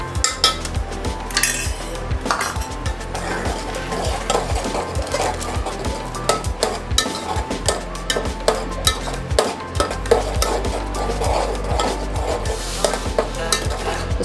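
Chicken cooked with biryani masala in a pan, a spoon repeatedly scraping and clinking against the metal while the food sizzles steadily underneath, close and continuous.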